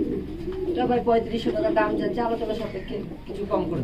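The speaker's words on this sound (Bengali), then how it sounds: "এটা আমরা কি কবুতর দেখছি এটা ভাই black magpie potter mail running male" Male Black Magpie Pouter pigeons at a fancy-pigeon farm give soft, throaty coos mixed with nearby chatter, and people talk over them throughout.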